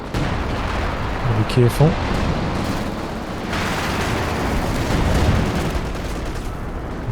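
Howitzer barrage in the real-time strategy game Company of Heroes 2, a dense rumbling wash of distant artillery blasts under continuous commentary with a brief spoken warning.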